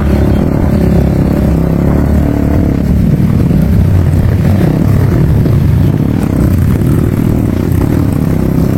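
A motorcycle rides along a rough, unpaved rural road in Rampi, Indonesia, with a loud, steady engine drone and rattling throughout, close and unbroken.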